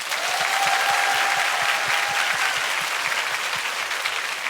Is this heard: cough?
no